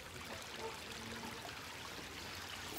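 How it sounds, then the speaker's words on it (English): Water from a bog wetland filter pouring in a steady stream into a koi pond, a continuous close splashing trickle with no break and no voices. "And then it falls into the pond."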